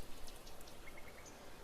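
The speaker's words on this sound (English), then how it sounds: "The dreary downpour starts off the Monday." Dreary rain downpour in the horror visual novel The Letter, a faint steady hiss of rainfall with soft scattered drops tapping on a surface.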